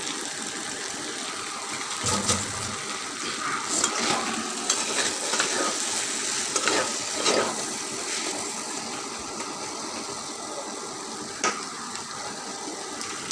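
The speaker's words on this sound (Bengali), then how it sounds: "দেখেন অনেকক্ষণ আমি কিন্তু এটা ভেজে নিয়েছি, এটা আমাদের ভাজা হয়ে গেছে" Taro stolons frying in a pan, a steady sizzle broken by scraping stirring strokes, close and continuous, with a voice speaking over part of it.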